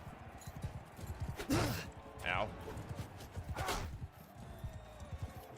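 Horse hooves clip-clop in a video game, a few uneven footfalls heard under a player's talk and game sounds.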